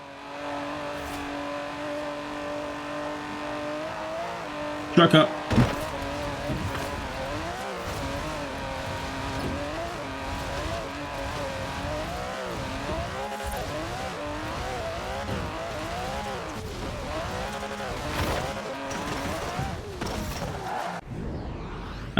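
An Aston Martin DB11 engine in Forza Horizon 4 drones and revs steadily, with gear changes rising and falling, a brief sharp burst near the middle, and a few whooshes and tire noises. A short spoken phrase comes in early.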